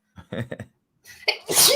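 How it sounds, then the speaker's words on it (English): A single loud, close sneeze bursts out at the end, right after a few short words from a man and a quick intake of breath. "Sorry, I sneezed."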